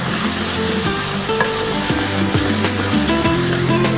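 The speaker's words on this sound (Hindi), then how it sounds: "यहां पे इसको थोड़ा सा फ्राई करेंगे" Finely chopped bell peppers and crushed fennel frying in a pan, a low steady sizzle close by with a few clinks of stirring against the pan, no one speaking.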